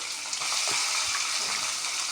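Fenugreek seeds and onions frying in hot oil for a tamarind fish curry, giving a steady broad sizzle with faint stirring scrapes, close and continuous, with no voices.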